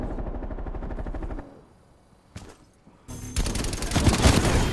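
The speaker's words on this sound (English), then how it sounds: "How many times is this guy gonna fucking shoot his gun?" Gunfire from the Black Ops Cold War video game rattles in rapid bursts, with a steady stream of shots, a lull with a single louder crack, then heavier, denser firing building at the end.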